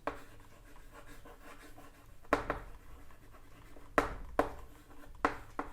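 Pen scratching out a quadratic factorisation calculation on paper, soft continuous writing strokes with several sharper taps and marks, close and quiet with no talk.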